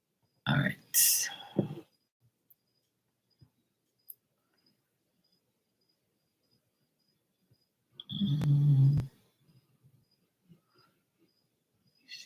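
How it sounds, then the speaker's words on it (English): A dog snoring and wheezing indoors: one loud, rough burst near the start, then quiet, then a second sustained, low, throaty snore later on, with faint small noises in between. "My dog's over here snoring. I just heard her like wheezing, snoring and wheezing."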